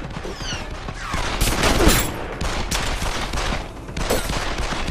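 Rapid video game gunfire from Deus Ex: Human Revolution, with dense overlapping shots and bursts heard close and loud throughout, set against busy in-game background noise.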